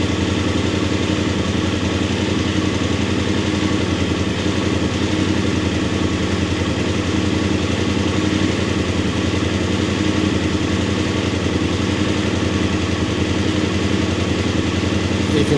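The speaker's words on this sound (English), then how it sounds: "So I'm going to keep the bike running. Sorry about the noise again" Voge 900 DSX motorcycle engine idling steadily nearby, a continuous mid-pitched mechanical hum with a faint clattering texture and no change in speed.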